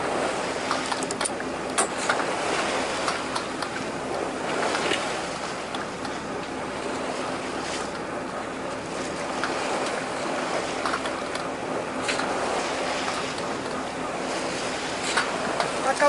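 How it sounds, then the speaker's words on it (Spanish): Sailboat at sea just after its sails were raised early in the morning, with steady wind and water wash around the hull, waves sloshing at intervals throughout. "¡Acabamos de poner las velas!"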